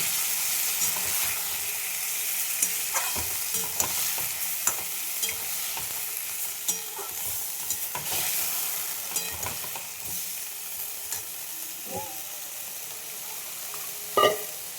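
Spice paste frying in a pan with raw banana for a rui fish curry gives a steady close sizzle, broken by repeated scraping stirs and a sharper clatter near the end.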